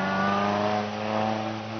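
Supercharged Bugatti Type 35B Grand Prix racing car holds a loud, steady engine note with strong harmonic tones, rising slightly and then easing back at a hillclimb meeting.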